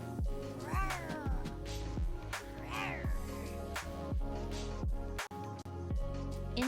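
A cat meows repeatedly and insistently, with several drawn-out, wavering cries close to the microphone over busy background sounds from a League of Legends game stream.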